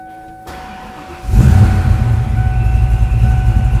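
A supercharged 1993 Ford Mustang GT with a lumpy cam fires up and settles into a loud, steady idle, a deep rumble that holds unbroken after the start.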